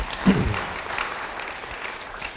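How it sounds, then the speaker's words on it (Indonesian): Congregation applauding during a church service, a soft continuous patter of clapping heard at moderate level with a brief vocal sound near the start. "Yang percaya beri tepuk tangan yang baik bagi dia."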